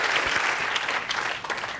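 Audience at a UK premiere event applauding: a dense, fairly loud wash of clapping that holds steady throughout.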